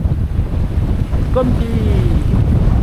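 Northerly wind buffets a sailboat along the south coast of Lemnos, a constant low rumble of gusts against the microphone with sea noise beneath, while someone speaks briefly in French.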